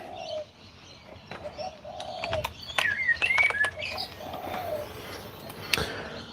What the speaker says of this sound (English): You got birdsong too.